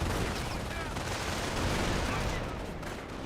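An MG42 machine gun rattles in continuous, dense bursts within a Company of Heroes battle, loud and sustained throughout alongside other gunfire.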